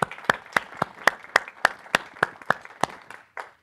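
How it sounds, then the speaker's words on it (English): Sharp, evenly spaced claps ring out about three per second, loud and close, from a community health dialogue audience applauding its panel. They trail off at the end. "Let's give our panel a round of applause."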